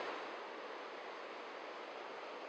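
A waterfall pours into a carved rock chasm on New Zealand's South Island, giving a steady, even wash of falling water that neither swells nor fades, faint and a little distant, with no voices.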